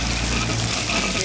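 Ginger and garlic hit hot oil in a wok and sizzle with a loud close continuous hiss, with a voice briefly under it.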